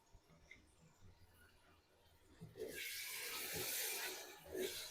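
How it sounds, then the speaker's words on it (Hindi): A splash of water hits chopped tomatoes frying in a hot pan, sizzling loudly for a couple of seconds, a hissing burst after a quieter stretch with faint kitchen clatter. "थोड़ा सा पानी का छींटा लगाकर मैंने टमाटरों की भी भुनाई कर ली है।"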